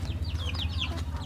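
Free-range chickens cluck and chatter softly at feeding time, short repeated calls over a low rural background hum.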